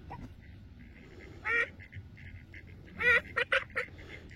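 A few nasal duck quacks ring out, one single call and then a quick cluster of three or four, outdoors with no talking.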